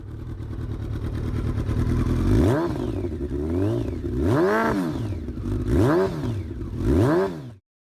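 A Kawasaki ZX-12R with its 190-horsepower inline four-cylinder engine idles and then revs repeatedly, each swelling, falling whine rising and dropping in four or five close, loud blips before cutting off.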